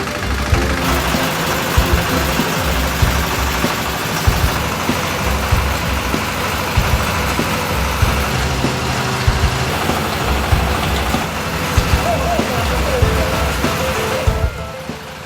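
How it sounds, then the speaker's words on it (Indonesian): A feed mixer machine blends a cattle fattening ration, its engine running in a steady, loud, continuous drone with rumbling low-end churn throughout, no voices over it. "Pencampuran bahan ransum pakan dapat dilakukan dengan menggunakan mesin mixer atau secara manual."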